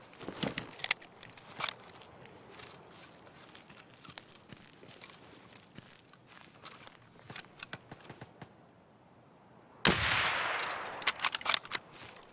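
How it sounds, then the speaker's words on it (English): Gunfire in the video game Escape from Tarkov: scattered distant shots and short bursts crackling through quiet woods ambience, then a louder close burst of rapid fire near the end. "There's still more shooting happening over on this side."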